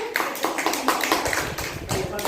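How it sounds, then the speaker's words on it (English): A small class claps for a student group after their presentation, a short burst of rhythmic, fairly close hand claps. "give applause to group 2"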